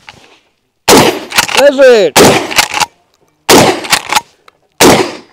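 Mossberg Maverick pump-action shotgun fired outdoors: several loud, sharp blasts spaced about a second apart, with shouted voices between shots.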